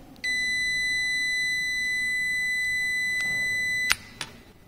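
A multimeter in continuity mode beeps steadily for almost four seconds while an ignition switch is tested on its start position, then cuts off with a couple of sharp clicks from the probes.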